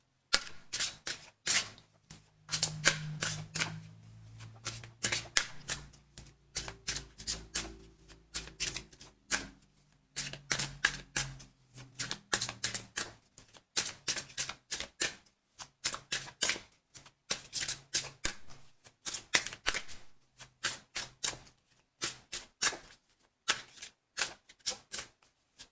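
Tarot cards are shuffled in rapid bursts of crisp riffling clicks, close and loud, repeating in irregular runs across the whole stretch with brief pauses between bursts.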